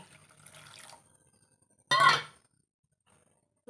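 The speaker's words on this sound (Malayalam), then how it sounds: "കുറച്ച് വെള്ളം ഒഴിച്ചു കൊടുക്കാം" Water poured into a simmering chilli curry, a soft faint trickle followed by one brief louder splash near the middle, then quiet.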